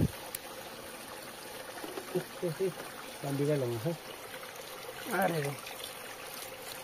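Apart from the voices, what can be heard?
water trickling from a seeping spring on a trek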